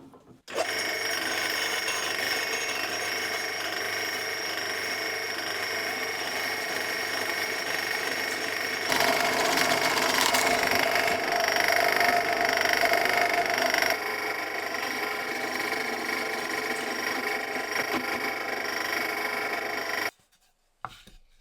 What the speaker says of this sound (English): I'm going to drill through, going all the way through on the points I've marked.